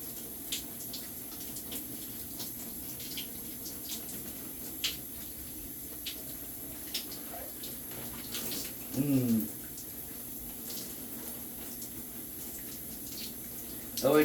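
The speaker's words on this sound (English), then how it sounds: "I turn the water on its low setting, because it's like faucet sprayer" A faucet sprayer runs water on its low setting, likely at a bathroom sink, making a steady, soft hiss throughout with scattered small splashes and clinks, and a brief louder burst near the middle.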